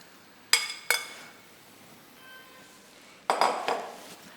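Metal utensil clanks against a pan as beef, tomatoes and vegetables are stirred, a few sharp close knocks with quiet pauses and a faint sizzle between them.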